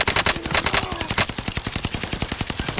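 Sustained automatic gunfire in a video game, a fast, loud burst of evenly spaced shots over roughly three seconds with dense crackle around it.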